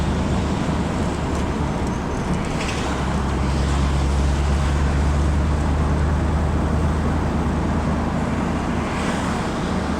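A car drives along a road through town, passing under a bridge; steady engine and tyre rumble with wind noise fills the whole stretch, continuous and close, with no talk.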